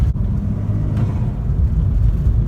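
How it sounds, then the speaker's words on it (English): Upgraded diverter valve on a tuned MK6 VW GTI running 18 PSI boost, giving a low rumbling turbo flutter under steady engine drone, continuous and fairly loud, heard from inside the car. "It has a little bit of a turbo flutter sound."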